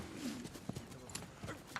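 Horse hooves clip-clop on the soundtrack of a fantasy film, a quiet, irregular run of soft knocking steps over a busy low background mix.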